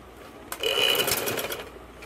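A sewing machine runs a short burst of double stitching along the cuff hem of a ladies' kurti, a steady close whirring that starts abruptly and tapers off after about a second and a half.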